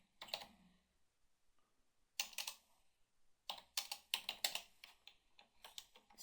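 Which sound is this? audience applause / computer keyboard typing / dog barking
computer keyboard typing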